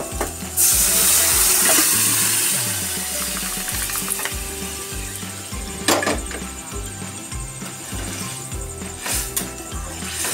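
Boiled peas and potatoes tipped into a pan of frying spice masala, a loud sizzle bursting at the start and settling into steady crackling, with repeated scraping and knocking of a spoon stirring close by.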